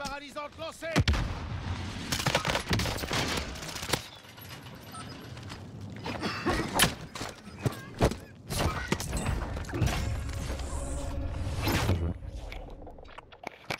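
Heavy, repeated gunfire and explosive bursts in Call of Duty: Warzone, loud, dense shots in irregular volleys with short gaps, along with chaotic game noise.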